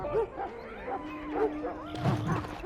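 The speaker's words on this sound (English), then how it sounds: "Get that bloody mutt out of the larder." Dog in the Dragon Age: Origins video game giving a run of short yipping barks and whimpers, rhythmic and fairly close, growing busier toward the end.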